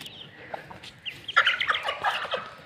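A hen clucks and squawks in a rapid, irregular series of short calls right after killing a rat among chicks, fairly faint and slightly distant, with no talking.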